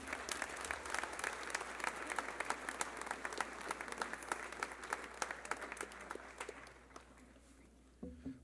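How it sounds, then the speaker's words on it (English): Audience applause fills an honors ceremony, dense steady clapping from a crowd that holds for about seven seconds before thinning and fading out, with a brief burst at the end. "One more round of applause for everyone, please"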